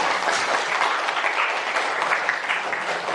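A classroom of students applauds together, producing a dense, continuous clatter of clapping hands that stays loud and even for a few seconds, with no talking over it.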